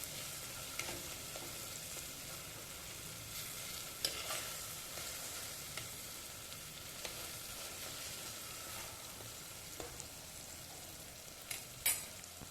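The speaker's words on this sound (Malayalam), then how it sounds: "ഇനി നമുക്കിത് നന്നായിട്ടൊന്ന് ഉടച്ചു കൊടുക്കാം. ഉടച്ച് എല്ലാം ഒന്ന് മിക്സ് ചെയ്തെടുക്കാം." Cooked tomatoes for a Kerala fish curry are mashed and stirred in a pan, soft quiet sizzling under scattered scraping and tapping of a spoon, close and fairly faint, no talk.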